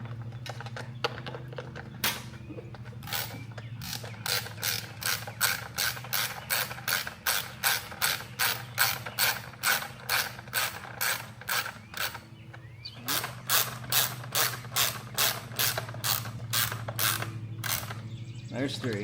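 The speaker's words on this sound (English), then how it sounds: "Now we're just gonna tighten down all the bolts." Bolts on a Ryobi RY802900 power washer being tightened with a ratchet, a rapid series of rhythmic clicking bursts, close and repeated in runs with a short pause midway.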